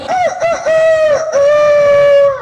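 A man imitates a rooster crowing, loud and close by, one long drawn-out cock-a-doodle-doo with a few short rising notes at the start.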